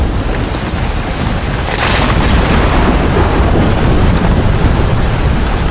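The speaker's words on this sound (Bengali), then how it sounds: "আর তখনই তুমুল বেগে বৃষ্টি শুরু হলো" Heavy cartoon rain pours in a dense, loud, steady roar, and a low thunder rumble swells partway through. No voices are heard.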